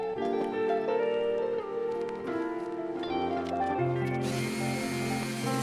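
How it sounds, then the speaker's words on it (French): Power sander working wooden candy cane cutouts made from scrap wood, a whirring motor with shifting pitch, close and fairly loud, the tone changing as the piece is pressed and moved. "on va poncer pour bien marquer l'arrondi"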